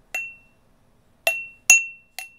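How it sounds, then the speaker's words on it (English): A drinking glass is tapped four times with clear ringing pings: one alone, then three more spaced irregularly, each bright, close and briefly sustained before decaying into silence. "I wonder what this glass sounds like."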